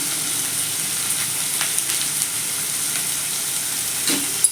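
Pumpkin stem and potato curry sizzles steadily in a kadai over the flame while a spoon stirs it, a dense continuous frying hiss with faint scraping and a small knock near the end.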